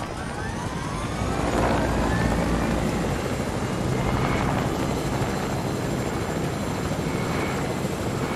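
Helicopter in Fortnite, a steady loud rotor drone with a whining engine tone that holds continuously and close, without speech.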